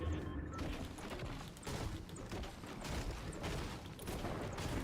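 Rapid bursts of gunfire from a weapon in the FPS game Gyroverse, loud and continuous with repeated shots and crashing impacts over dense game noise.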